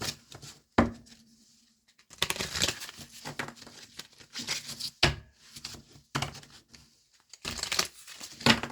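Tarot cards are shuffled and riffled in several quick, crisp bursts with pauses between, close and fairly quiet.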